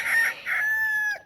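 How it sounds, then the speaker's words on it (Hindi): A domestic hen on a small farm gives one loud, close, drawn-out squawking call with two short opening bursts that stretch into a long, even cry, then break off abruptly. "ये हमारी मुर्गी है।"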